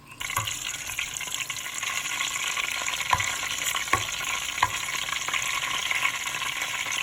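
Onions sizzle and crackle steadily in hot oil, a constant frying hiss with occasional soft clicks of stirring.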